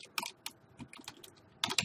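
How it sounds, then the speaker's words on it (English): Someone types on a computer keyboard in a short, quiet burst of irregular key clicks, with a small cluster of quick taps at the end. "I just typed in Intraday Trade and it shows up right here"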